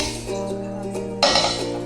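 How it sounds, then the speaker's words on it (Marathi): A kadhai is set down on a gas stove, giving one brief metallic clink over a steady background hum before a louder burst of noise follows. "कढई ठेवते."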